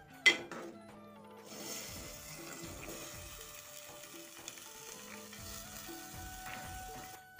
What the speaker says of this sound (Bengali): ডিমটা আগে ভুনা করব, তারপর হচ্ছে সবজিটা রান্না করব।